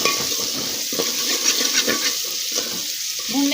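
Garlic and whole spices fry in a pan for a ridge gourd dish, a steady close sizzle with light stirring scrapes and a few soft clinks.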